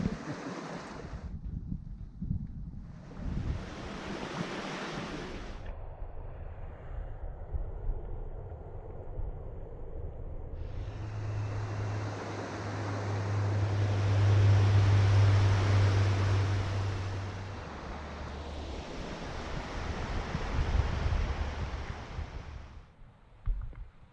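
Rushing river water at a crossing on the Cape Wrath Trail in the Scottish Highlands, a broad steady wash mixed with gusts of wind buffeting the microphone, swelling louder midway before cutting off.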